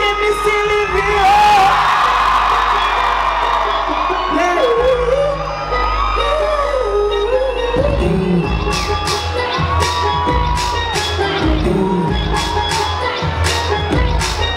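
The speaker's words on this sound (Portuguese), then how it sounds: "Dá um grito bem alto que o time se livrou." A crowd at a baile funk party in Brazil, with MC Livinho performing, whoops and yells loudly, with sustained chanting voices and bursts of shouting over a deep bass throb.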